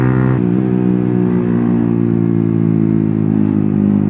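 A Yamaha TFX motorcycle rides along steadily, its engine droning loud and close with a constant hum and a brief shift in tone early on.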